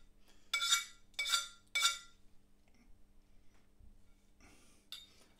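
Cream and English mustard being mixed in a bowl: three distinct bursts of a utensil clinking and scraping against the bowl, then quieter stirring and a couple of softer clinks, close up with no talk.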